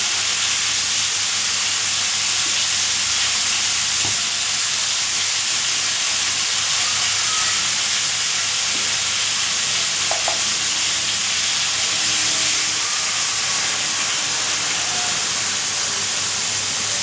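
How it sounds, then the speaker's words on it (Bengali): Cumin and coriander seeds sizzling in hot oil for a cauliflower and potato curry, a steady close frying hiss that holds evenly throughout, with a few faint clinks of stirring. "শুধু জিরে ধনে দিয়ে ফুলকপি আলুর তরকারিটা করছি।"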